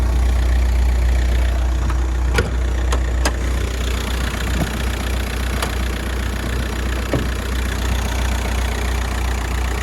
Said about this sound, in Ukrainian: Робота дизельного мотора. Двигун працює ідеально.